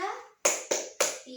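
Children in a classroom clap three sharp, evenly spaced beats as part of a Ramadan fasting clap chant, a voice speaking just before the claps.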